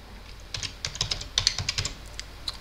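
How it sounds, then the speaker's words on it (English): A computer keyboard is tapped in a rapid string of crisp clicks as Ctrl, Shift and the arrow keys are pressed, close and fairly loud with no voices. "Ctrl Shift and the arrow keys will select you the name."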